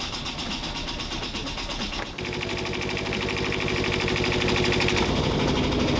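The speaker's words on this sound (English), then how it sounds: "Do you want to turn on the engine and we'll see if it all sounds better?" A sailboat's inboard engine running just after a loose alternator bolt was fixed, with a steady mechanical drone and rhythmic knocking that starts up after a brief dip about two seconds in and continues loudly to the end, without talk.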